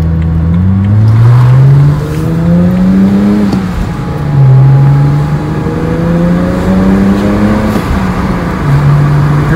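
A BMW 335i with the N54 engine revving after new ignition coils and spark plugs, heard loud and close: several rising, falling pulls through the revs with a smooth, steady engine tone between them and no talk.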